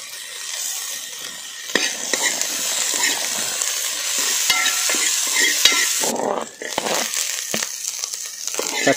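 Garlic and ginger frying in a pan for a whole-fish curry, a loud close sizzle with repeated spatula scrapes and clinks against the pan, plus a brief dip as the frying quiets.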